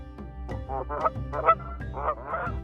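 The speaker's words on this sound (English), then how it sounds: "We see a crowned crane," A crowned crane calls at the southern entrance to Serengeti National Park, Tanzania, giving a series of nasal honking notes in short irregular bursts, close and clear over a low steady hum.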